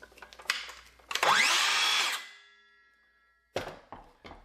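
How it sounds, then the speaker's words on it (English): A Dewalt 20V circular saw spins up with a loud whine, then its electric brake stops the blade fast, the sound dropping away within about a second, followed by a few handling clunks. "immediately when you let go of the trigger, it's going to stop the blade from rotating"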